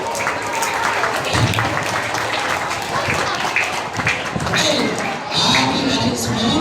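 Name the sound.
audience applause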